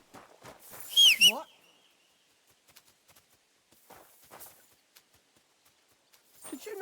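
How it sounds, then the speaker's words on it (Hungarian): Horse hooves clip-clopping in the medieval video game Kingdom Come: Deliverance 2, faint scattered hoof taps against near silence, with a brief louder burst of game sound early on and a voice speaking near the end. "Hallom a lovat, de nem látom."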